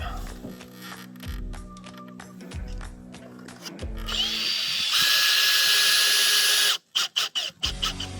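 A power drill drives a screw into the mount of a solar LED motion security light on a sideways building, whirring in pulses before one long loud steady spin that cuts off abruptly, followed by a few short bursts.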